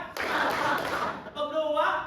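A classroom of students claps in a patterned rhythm, a dense burst of hand claps at first, then voices chanting together as the clapping fades.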